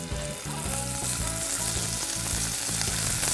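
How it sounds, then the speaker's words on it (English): A loud, steady sizzle of U10 scallops searing in a hot pan, continuous throughout, with rhythmic background music underneath. "you want to hear that sizzle in the pan"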